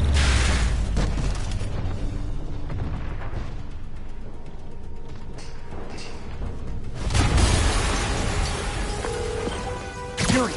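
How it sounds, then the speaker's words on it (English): A video game explosion, with a deep booming blast at the start and another heavy rumbling burst about two-thirds of the way through, over a low continuous roar with no talking. "Yuri, an explosion just..."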